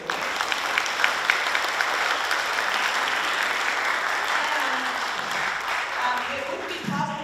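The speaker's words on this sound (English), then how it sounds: "Give them a round of applause too." Audience applause for a stage crew at the close of a string orchestra concert, steady and dense clapping throughout, with a few voices and a brief call near the end.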